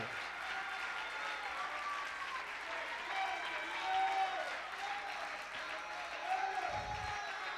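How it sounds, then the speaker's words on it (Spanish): Applause at a Christian radio program's worship service, a steady wash of clapping from a congregation with voices faintly mixed in, continuing for several seconds without a break. "Dale un aplauso grande al cielo que Él se lo merece"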